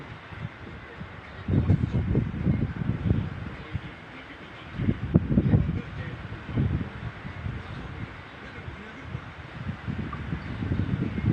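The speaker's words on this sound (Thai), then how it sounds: "ลม บน นี่วู้วู้วู้เลย" Strong, dry wind blows across high ground, coming in loud buffeting gusts that roar against the microphone, ease off, then surge again.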